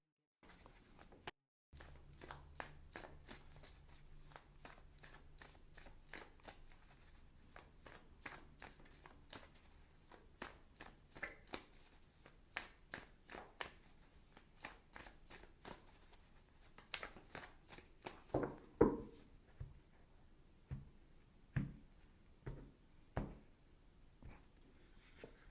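Oracle cards are shuffled at close range in a long run of crisp riffling snaps and soft flutters. The rhythm stays steady at first, then the taps become more spaced and louder toward the end.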